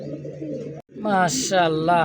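Pigeons for sale at a market coo in rolling, throaty bursts nearby, loud and close, with a person talking in the same space.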